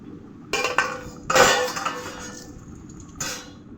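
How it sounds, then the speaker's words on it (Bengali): A metal plate used as a lid is lifted off a pot of simmering potato and soybean curry, giving a sharp metallic clank, then a louder clattering scrape, and a final lighter clink, all close and without speech. "10 মিনিট পরে আমি আবার খুলছি।"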